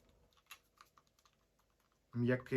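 Buttons of a wireless computer mouse clicking, heard as a series of quiet, light taps close up, followed by someone speaking.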